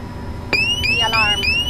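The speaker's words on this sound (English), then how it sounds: "Then cabin altitude, we will get the warning over here, the master and" In a Learjet 60XR cockpit, the cabin altitude warning alarm sounds loud and close, four repeated rising electronic tone pulses with bright harmonics over a steady cockpit hum.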